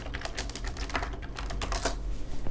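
Typing on a computer keyboard, a quick run of light clicking keystrokes at close range, fairly quiet over a low steady hum.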